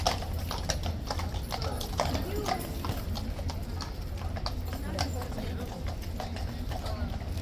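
Hooves of a Blues and Royals King's Guard cavalry horse clip-clop in a steady, close rhythm, with a low rumble and some background noise underneath.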